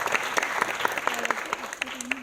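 Audience applause at a Marathi film premiere show in Pune, steady dense clapping throughout with a voice briefly audible underneath.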